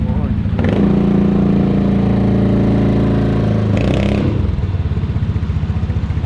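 A motorcycle engine revved loudly and close during a roadside vehicle inspection in the Philippines, a sustained throbbing drone with two sharp bursts of clatter.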